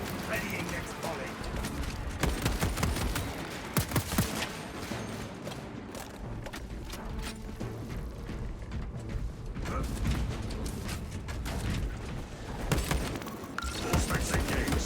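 Marksman carbine volleys crack out in a Space Marine video game, dense repeated shots and mechanical clatter under layered game sound and a voice speaking, steady and loud throughout.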